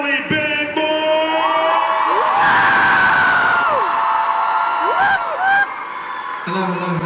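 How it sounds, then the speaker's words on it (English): A convention crowd at a comic con cheers, screams and whoops loudly for several seconds as a guest is welcomed on stage, with an announcer's voice audible over the noise before it settles. "Make some noise for the one and only Ben Boy."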